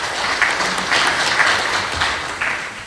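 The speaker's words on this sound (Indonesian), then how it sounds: "kita berikan tepuk tangan buat Pak Azmun" Steady audience applause at a regional government public consultation forum in Pelalawan, a dense wash of many hands clapping continuously, fairly loud and unbroken.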